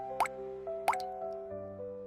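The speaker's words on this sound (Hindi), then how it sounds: "महेश के इतना कहते ही झोपड़ी की छत से पानी टपकना शुरू हो गया।" Cartoon water drips fall through a leaking hut roof in a rainstorm, three crisp plops spaced under a second apart over a steady musical tone, close and clear.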